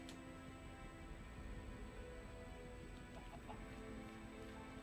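A Minecraft chicken clucking faintly, a few soft, scattered clucks over a steady low background hum.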